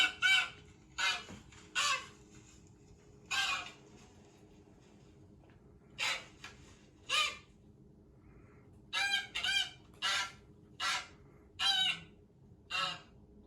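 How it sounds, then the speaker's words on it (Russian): Loud goose honks in short bursts, some single and some in quick clusters of two or three, with quiet gaps between them. "Это гусь. Гусь. А, Гусь, он так, да, кричит."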